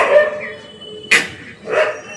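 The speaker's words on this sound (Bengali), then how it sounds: "দেখো কুকুর ডাকছে বলে" A dog gives two sharp, close barks a short moment apart, following a faint whining tone, with no talk over them.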